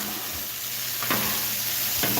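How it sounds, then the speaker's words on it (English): Steady, dense sizzling of garlic bread frying in a pan, close and continuous, with a couple of brief scraping stirs breaking through. "Oh, listen to that sizzle."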